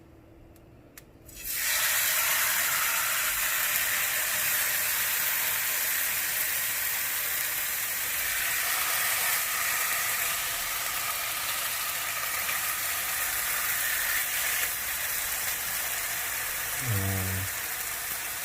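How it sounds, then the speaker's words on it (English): Chicken breasts hit a hot pan and sear with a sudden, loud, steady sizzle that holds for the rest of the moment, ending with a brief clunk near the end. "I want to kind of sear them a little bit, not burn them, but sear them a little bit."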